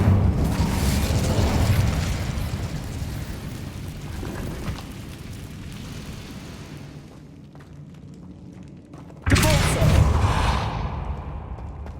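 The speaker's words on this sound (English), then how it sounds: "Incendio!" The Incendio fire spell in Hogwarts Legacy goes off as a loud whooshing, rumbling blast, then fades to quieter rustling before a second sudden heavy burst of fire erupts close by, with no talk.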